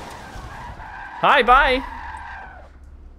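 Car tires squealing while drifting in Forza Motorsport 7, two loud sharp screeches in quick succession over a steady engine drone, with brief speech nearby.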